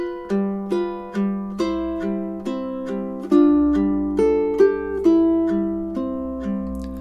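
Measures 9 to 12 of Danse Paysanne, a classical ukulele etude, are plucked up close, alternating double stops and bass notes in an even, lilting rhythm, each note ringing clearly with no voices.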